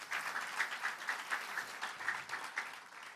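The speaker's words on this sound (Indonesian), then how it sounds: "Kita beri tepuk tangan buat Tuhan." A church congregation at a Christmas-season service claps together in a fairly quiet, distant-sounding room, the clapping pulsing in a loose rhythmic beat for several seconds.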